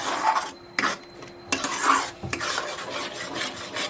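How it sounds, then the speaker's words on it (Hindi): Chopped tomatoes frying on high flame in a pan while being stirred, with steady sizzling and scraping, clinking strokes for chole, no talking. "तो टमाटर को मैं अच्छे से फ्राई करूंगी"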